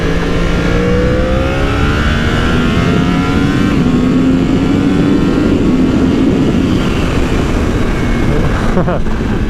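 A 2020 Yamaha R1 sport motorcycle's engine roars steadily up close while riding, its pitch climbing and settling through acceleration, with constant wind rush over it.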